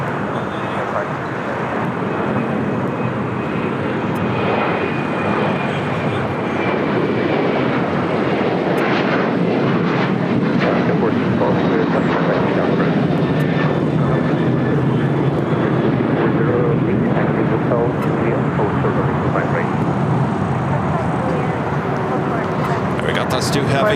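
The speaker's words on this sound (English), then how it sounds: "That's two heavies about to take off here on the south side." A United Boeing 777-200ER heavy jet starts its takeoff from the LAX south side, a sustained, fairly loud engine roar with faint high whines drifting across. Someone talks over the noise at times.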